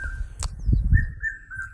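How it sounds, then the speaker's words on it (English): A bird sings in the background during an outdoor morning scene, with a few thin whistled notes and chirps heard faintly over a low rumble of ambient noise. "Can you hear that bird in the background?"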